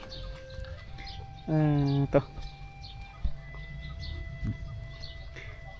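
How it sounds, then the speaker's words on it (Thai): A bird call rings out briefly from a forest over a damp outdoor ambience with light drizzle, a voice speaking faintly nearby and scattered chirps in the background. "เสียงนกฮ้องกุ๊กมาแต่ป่าแต่ดง"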